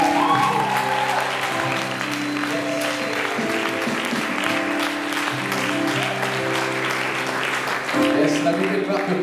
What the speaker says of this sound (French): acclame encore ton Dieu ce matin